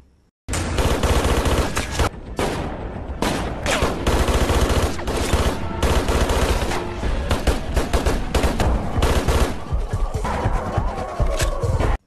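A film shootout scene in which several people, including two police officers, exchange fire, with dense, loud bursts of rapid gunshots continuing almost without pause after a brief quiet start.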